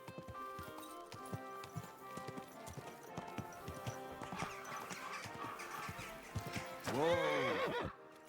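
Hooves clip-clop in an uneven rhythm, then a horse gives a loud, drawn-out whinny near the end; the sounds are from the video game Kingdom Come: Deliverance 2.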